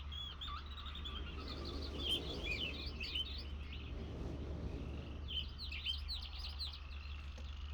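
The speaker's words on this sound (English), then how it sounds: "There's bird noises." Birds chirp and twitter in bursts in realMyst Channelwood, a forested water-and-treehouse level, over a low ambient hum, the calls clustering early and again near the end.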